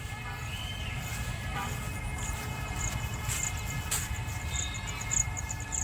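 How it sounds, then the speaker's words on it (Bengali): A small toy train in a children's park in Balurghat rumbles along steadily, with faint high whistle-like tones and a few sharp clicks, while people talk in the background. "সুজয় এই ট্রেনটা এদিক দিয়ে এইখানে আসবে নাকি ওই দিকটা যাবে"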